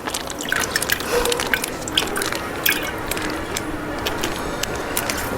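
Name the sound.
pouring packaged milk into a jug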